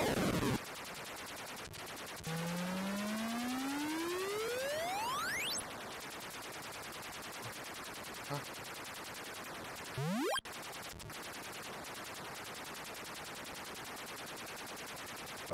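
Retro Atari 8-bit game shooting effects: a synthetic buzzing tone that sweeps upward, with a short zapping shot burst later on, all electronic and clean with no talk.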